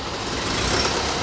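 Auxiliary engine on a Vac-Con truck running steadily, a continuous broadband mechanical drone that holds at an even, moderately loud level with no talk over it.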